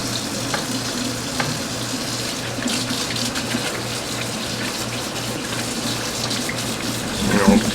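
Running tap water rinsing meat for a crockpot pot roast, a steady close splashing stream into a sink that continues throughout, with a brief louder splash near the end.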